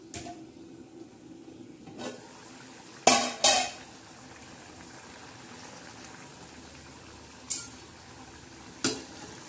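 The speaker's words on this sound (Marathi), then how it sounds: "छान अशा हलवून घेऊया" A pan of chakki vegetable curry being stirred, with a few sharp scraping clanks of the utensil against the pan over a faint cooking background, alone without talk.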